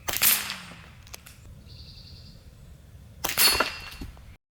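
A Reximex RPA PCP air pistol fires .177 exploding pellets at a target, producing two sharp, loud cracks about three seconds apart, each with a short fading tail, and a faint high whine in the gap between them.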